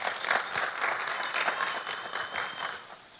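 A church congregation at a worship service breaks into sustained applause, a dense wash of many hands clapping together that holds steady before thinning out at the end.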